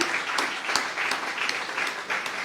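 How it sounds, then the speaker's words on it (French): Audience at a conference on industrialisation applauds the speakers, a steady patter of clapping from many hands filling the room for a couple of seconds. "j'aimerais vraiment demander à l'assistance de pouvoir davantage applaudir mes aînés"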